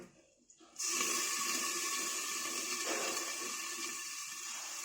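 A sudden steady hissing rush starts after a brief quiet moment and continues evenly as water is sprinkled over a covered pan cooking chitau pitha rice cakes.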